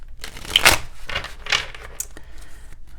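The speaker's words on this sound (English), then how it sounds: "Now let's pull some tarot cards" Tarot cards being shuffled and pulled, a few brisk riffling swishes and soft papery slaps close up, separated by short pauses.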